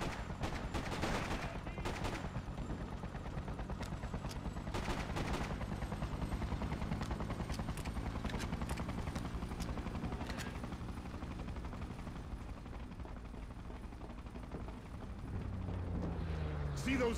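Sustained, dense gunfire from soldiers in the video game Freedom Fighters, rapid automatic bursts rattling continuously throughout with a heavy low rumble beneath, loud and close.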